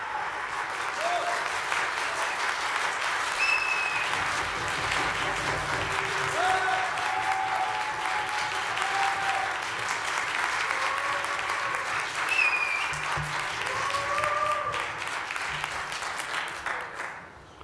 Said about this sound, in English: When I drop it, you applaud.